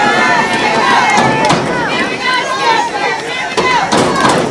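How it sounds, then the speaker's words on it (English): Large crowd at a boys' soccer match in Cohassett roars and cheers steadily throughout, a dense wash of voices with shouts rising and falling, loud and close. "Huge Cohassett crowd here today,"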